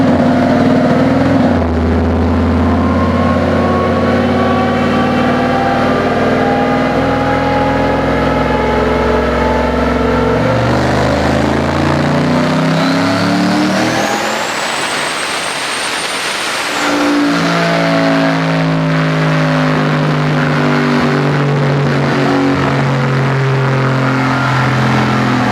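A nearby turbocharged truck engine revs hard and holds a steady roar, dips briefly with a rising whine, then climbs and roars again; no talking.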